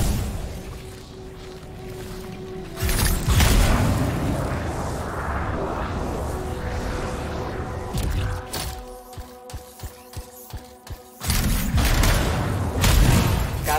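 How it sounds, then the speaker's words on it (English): Canisters blowing up in a contained explosion in the game Anthem: loud blasts and rumbling bursts, then a run of sharp, evenly spaced pops, followed by another heavy burst. "It'll be a contained explosion."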